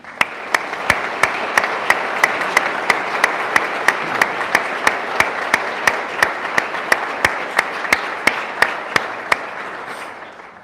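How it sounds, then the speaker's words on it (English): Ceremony guests at an Indiana National Guard change-of-command event applaud two retiring officers, a loud, steady crowd applause with a sharp, regular clap punching through at an even beat close by. "please give a round of applause for the distinguished careers of these two outstanding officers."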